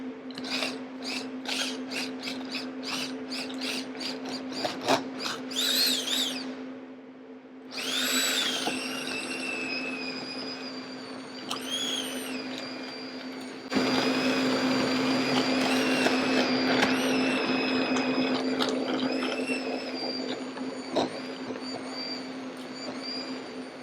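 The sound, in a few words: hand blender blitzing koji mole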